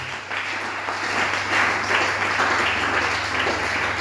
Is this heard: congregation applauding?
yes